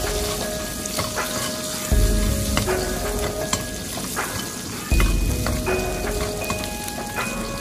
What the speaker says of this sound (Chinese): 油热之后下入姜蒜小米辣，再快速的翻炒，将它们炒香